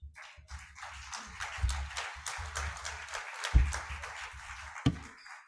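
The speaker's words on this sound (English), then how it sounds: "Let's give him another round of applause." An audience applauding at a national budget forum in Uganda: a steady wash of many hands clapping for several seconds, with a few louder bumps and thuds in the room.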